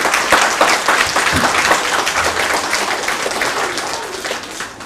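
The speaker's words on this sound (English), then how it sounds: "I think you deserve a round of applause" Sustained, fairly loud applause from an audience at a school graduation ceremony, a dense wash of many hands clapping steadily that tapers slightly toward the end, with no talking over it.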